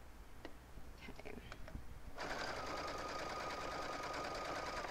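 A sewing machine stitches binding onto Cuddle minky fabric. Faint ticks and handling sounds come first, then the machine starts a steady, close, rapid whirring hum that runs to the end.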